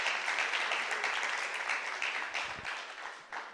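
An audience at a panel session of a Pentecostal studies conference applauds to welcome a speaker, a dense, steady patter of many hands at moderate distance that thins slightly toward the end.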